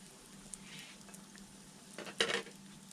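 A Navajo frybread pizza calzone fries in a pan, sending out a faint steady sizzle, then a brief louder clatter and stir near the end.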